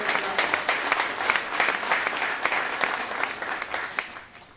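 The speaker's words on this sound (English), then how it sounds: "Let's give a round of applause to our legislators who are here" An audience applauds legislators at a governor's event in Buffalo, a steady, dense wash of clapping that holds for several seconds and then begins to fade at the end.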